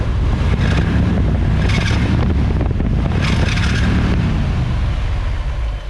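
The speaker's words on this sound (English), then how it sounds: "give it too much throttle, yeah, it squeals the belt" 1959 Chevy with a 348 engine and a 5-blade fan revving hard, a loud close roar rising and falling with a high squeal from the belt under throttle, mixed with wind buffeting.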